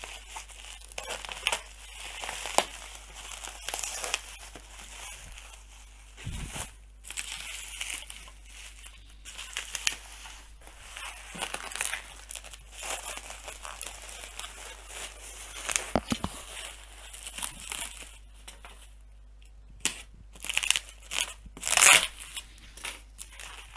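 Cardboard box and plastic packing of a Logitech G29 Driving Force steering wheel with shifter being pulled open, a steady run of close crinkling, crunching and tearing with a few sharper rips and thumps, no talking.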